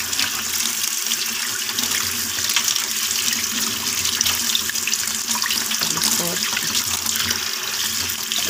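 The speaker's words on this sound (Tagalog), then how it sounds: "huhugasan ko ng mabuti sa tubig" Oregano leaves rinsed under a running kitchen tap, a steady close splashing of water into a sink that runs without a break throughout.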